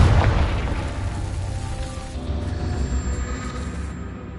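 A Confringo blasting spell explodes in Hogwarts Legacy, a loud deep boom that bursts at the start and then trails off into a long rumbling tail.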